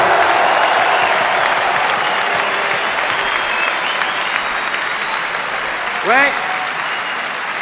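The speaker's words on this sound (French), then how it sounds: "je crois que nous pouvons applaudir ensemble le grand Mozart" A large audience at a political campaign speech applauds steadily and loudly throughout, with a brief voice rising out of the crowd noise near the end.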